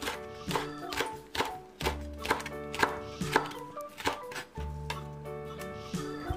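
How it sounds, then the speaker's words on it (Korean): Knife chopping green onion and Cheongyang chili peppers into small pieces on a cutting board, a run of quick, close taps and thunks mixed under background music. "대파와 청양고추는 쫑쫑 썰기 해줍니다"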